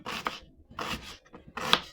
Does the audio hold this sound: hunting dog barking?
no